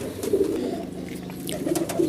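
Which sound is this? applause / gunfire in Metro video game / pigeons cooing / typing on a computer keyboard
pigeons cooing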